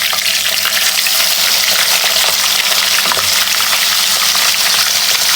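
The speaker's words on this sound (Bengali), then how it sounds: "এখন আমি মাছগুলো দিয়ে 2 মিনিট করে করে এই পাশটা ভেজে নেব।" Rupchanda pomfret fish frying in hot oil, a steady loud sizzle with bright crackling spitting throughout, close up and continuous with no voices.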